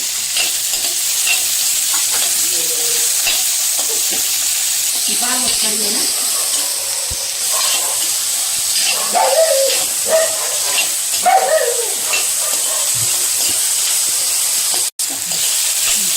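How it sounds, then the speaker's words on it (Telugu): Dried red chillies and spices for mango ginger pickle sizzle and fry steadily in a pan, a loud continuous hiss with occasional stirring scrapes close by. "వేగుతుంటాయి చూడండి వేగుతున్నాయి కదా"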